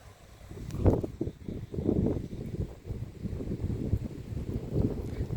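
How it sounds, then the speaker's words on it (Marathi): Strong cold wind gusting outdoors, buffeting the microphone in uneven low rumbling surges of varying strength. "आता हवा जास्त सुटली, थोडीशी चिरचिरी यायला लागली, हवा पण लई सुटायला लागली आता"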